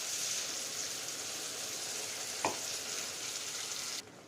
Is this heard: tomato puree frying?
yes